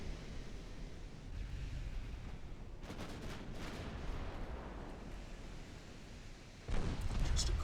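Naval gunfire from battle cruisers in the warship game Ultimate Admiral: Dreadnoughts: a couple of heavy, rumbling shots boom over a constant roar of sea and wind, the last one sharp and loud near the end.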